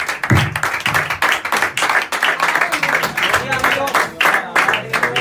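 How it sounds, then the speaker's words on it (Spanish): A church congregation claps in rhythmic bursts, with applause and voices mixed together throughout. "Denle ese aplauso al Señor"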